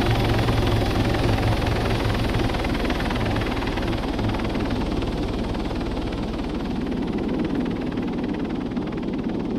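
Helicopter in the military game ARMA 3, a steady loud rotor and engine drone that runs evenly through the whole stretch with no talk over it.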